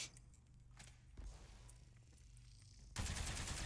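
Gunfire from the first-person shooter Spectre Divide, with several sharp shots and bursts over game ambience and then a loud, dense volley near the end, with no talk over it.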